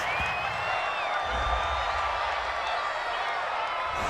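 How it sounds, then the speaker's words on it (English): An American football stadium crowd at a Minnesota Vikings versus Pittsburgh Steelers game reacts to a penalty call, a steady distant roar of boos and murmurs with faint whistles, continuous throughout. "Well, this crowd does not like that call."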